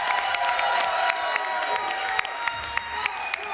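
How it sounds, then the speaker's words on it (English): Crowd at the Deadman Winter Finals 2017 gaming event bursting into sustained applause and cheering, dense clapping with occasional sharp whoops, steady and fairly loud throughout. "So a round of applause."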